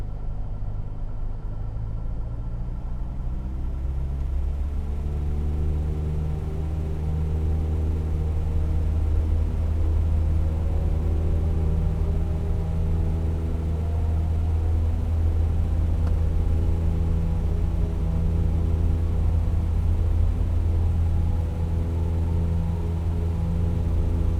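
In a flight simulator with a sound mod, an aircraft engine drones loud and steady, its pitch slowly rising as it accelerates down the runway on takeoff, with a low rumble of wheels underneath.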